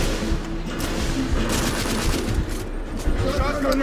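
Rapid continuous gunfire from a weapon in The Order 1886, dense and loud throughout with clattering bursts layered over game noise.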